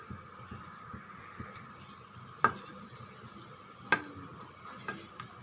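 Soft sizzling of lump asafoetida frying in about a teaspoon of hot oil, with a few sharp clicks from a utensil tapping the pan; no talking.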